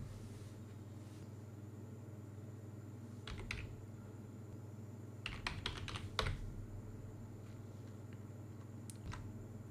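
Quiet computer keyboard typing while database settings are entered: a few scattered clusters of soft key clicks over a steady low hum, with no talking.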